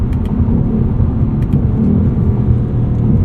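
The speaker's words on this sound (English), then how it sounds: "Shift through all 10 of our gears." A 2024 Ford Mustang GT coupe with a 10-speed automatic rumbles loudly from inside the cabin, its engine note holding a deep, continuous growl as it pulls through the gears.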